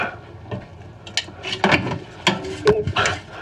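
Clicks, light knocks and scraping from loosening a part on a MaxxAir roof vent fan, in a run of short, close, irregular bursts that grow busier toward the end.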